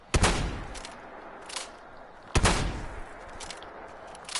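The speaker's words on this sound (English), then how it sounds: "Oh, it fires both barrels at once." Two loud, sharp blasts from a double-barrel shotgun firing both barrels at once in a modded Fallout 4 game, each with a short ringing tail, about two seconds apart, and fainter echoes in between.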